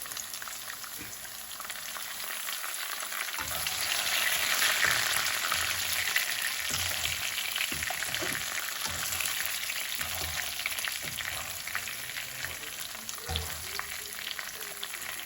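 Curry leaves are dropped into hot oil in a pan, giving steady close sizzling and crackling frying with occasional stirring scrapes throughout.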